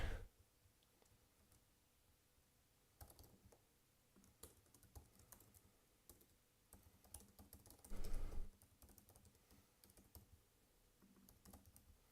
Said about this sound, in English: Let me actually type that in the lab here really quick.